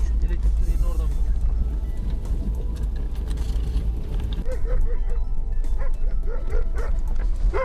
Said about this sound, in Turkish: Köpekleri geliyor.